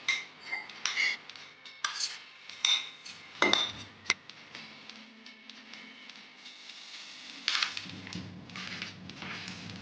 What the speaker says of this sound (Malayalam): ഇനി നമുക്ക് ഈ നട്ട്സ് എല്ലാം കൂടിയിട്ട് ഈ സോട്ട് ചെയ്ത ഡേറ്റ്സിലോട്ടേക്ക് മിക്സ് ചെയ്യാം.